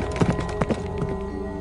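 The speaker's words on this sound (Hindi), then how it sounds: "वह घोड़े पे सवार होकर अरोरा के महल की ओर बढ़ने लगा।" Horse hooves clip-clop as a prince rides toward a palace in a fairy-tale scene: a short run of close, thudding hoofbeats in an uneven rhythm that soften toward the end, with no speech.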